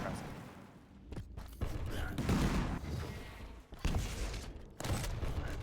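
Rapid tri-bolt and railgun fire during a Quake deathmatch duel, a dense run of sharp blasts and crackling impacts with short gaps, loud and continuous over game noise.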